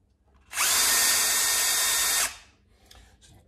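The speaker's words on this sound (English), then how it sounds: "So with a 3mm drill," A 3mm drill bit bores holes in the inner fenders of a Losi Super Baja Rey 2.0 RC truck. It gives one steady, close, high-pitched whine lasting almost two seconds, then stops cleanly.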